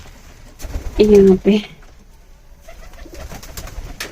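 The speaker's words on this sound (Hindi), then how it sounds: "ये है जी हमारे कबूतर" A pigeon gives a short, throaty coo close up, heard twice in quick succession, with a brief spoken remark and light rustling around it.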